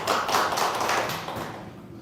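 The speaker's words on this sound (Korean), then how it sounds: "박수 한번 쳐주세요" A church congregation claps together, a dense, close burst of hands that stays full for about a second and then tapers off.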